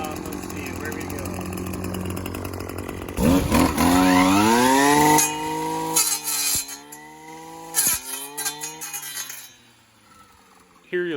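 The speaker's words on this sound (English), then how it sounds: "Here you'll see the Husqvarna has no problem cutting through a 1/2 inch to 1 inch thick tree branch" A Husqvarna 525RX brush cutter drones, then revs sharply upward as it cuts through a tree branch half an inch to an inch thick, followed by uneven bursts and drops in engine pitch as the cut finishes.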